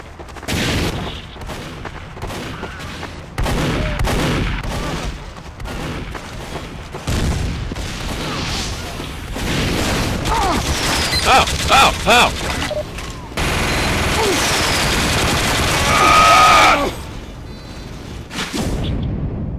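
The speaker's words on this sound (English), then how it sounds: "Why are you shooting me?" Gunfire and weapon noise in the video game Team Fortress 2, a dense stream of loud shots, bursts and mechanical clatter running almost continuously, with occasional game voices mixed in.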